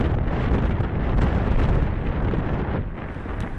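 Strong wind blows outdoors in a steady, loud, buffeting roar that hits the microphone, with no other sounds standing out.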